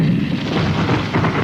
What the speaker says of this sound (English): more artillery becomes available to lay down a heavier barrage.